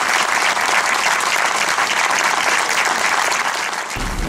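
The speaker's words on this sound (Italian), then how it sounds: "c'è un applauso a Massimo." Sustained applause from an audience at a Befana Interforze event in Ponderano fills the whole stretch, dense and steady, fading slightly at the end.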